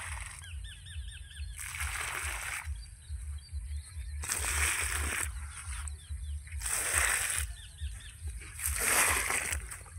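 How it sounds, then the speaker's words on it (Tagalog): Water is poured in heavy bursts onto soil around a newly transplanted watermelon seedling. Four long gushing splashes come at regular intervals, and birds chirp in the background between the pours. "So lagay tayo ng maraming tubig."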